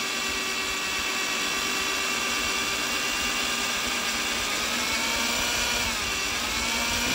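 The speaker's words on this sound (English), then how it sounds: "When you're drilling metal," A drill whines continuously and loudly into a cast iron Vortec cylinder head, a steady grinding hum with no pauses and no voices.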